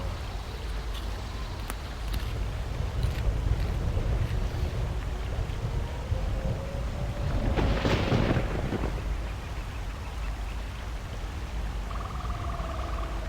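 Rain and rolling thunder in the Star Wars KOTOR 2 video game, a steady broad wash of rainfall with a louder thunder rumble near the middle, continuing to the end with no talk.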